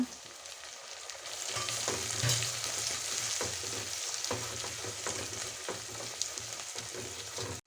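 Onions and green chillies sauté in a pan for mutton biryani, giving a continuous close sizzle with repeated spatula scrapes and stirring knocks at a fairly even pace, fading out at the very end with no talking.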